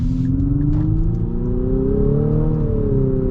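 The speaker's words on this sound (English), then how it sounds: "So we're gonna get up and get our acceleration here." A 2023 Infiniti QX55 accelerates from the cabin, its engine note rising and holding in a steady smooth drone with a slight peak near the end, no speech over it.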